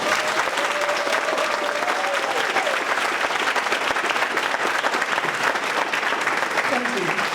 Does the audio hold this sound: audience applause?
yes